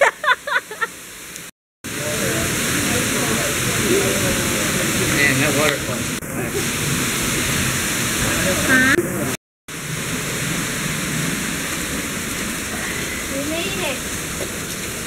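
A waterfall roars in a steady, loud, broadband wash as heard from inside the falling water, with brief breaks in the sound. Voices appear faintly at the start.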